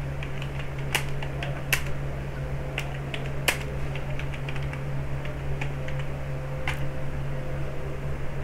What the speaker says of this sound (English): I have typed for my password.